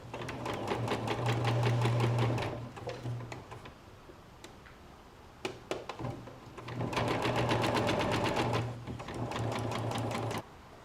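A sewing machine stitches fabric for a hammock bug net in two long runs of rapid, steady mechanical chatter, separated by a quiet pause with a few clicks while the fabric is adjusted.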